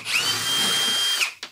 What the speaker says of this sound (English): grab a drill with a suitable size chuck